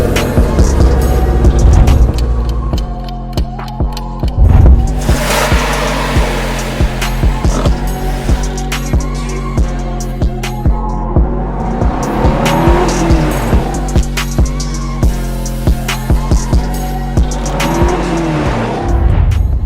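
A Chevrolet Corvette C6 sports car, imported from the USA, starts and its engine runs loud and close, with repeated sharp revving bursts over a deep steady idle rumble.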